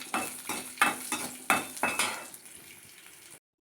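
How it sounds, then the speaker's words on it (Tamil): Ginger and green chilies sautéing in oil in a pan, stirred with quick rhythmic scrapes and clinks of a spoon over a light sizzle, about seven strokes before stopping abruptly. "இஞ்சி பச்சை மிளகாயை நல்லா வந்து இந்த எண்ணெயில் வதக்கிடணும்"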